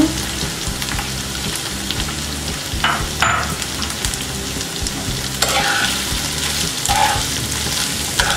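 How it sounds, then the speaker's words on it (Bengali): Chicken meat frying in a pan with garlic and ginger paste, a steady close sizzle running throughout with repeated scraping stir strokes and a few sharper clatters of the spoon, no voices. "রসুনের পেস্ট আদা পেস্ট দিয়ে দিব দিয়ে এগুলোকে একটু ভেজে নিব এবার আমি মাংসগুলো দিয়ে দিব"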